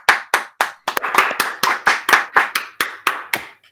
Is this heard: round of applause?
yes